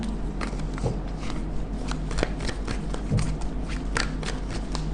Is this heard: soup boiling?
no